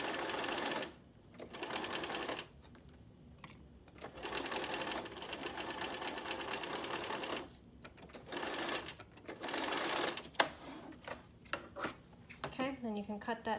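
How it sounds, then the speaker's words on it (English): A sewing machine stitches a barstool cover along the welt in steady whirring runs, stopping and starting several times, loud and close, with a few handling clicks in the pauses. "then go back and finish sewing along there"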